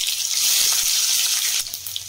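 Crushed garlic hits hot oil already holding mustard seeds, cumin and asafoetida in a home Gujarati kitchen, giving a loud, steady sizzle that fills the whole clip with no talking.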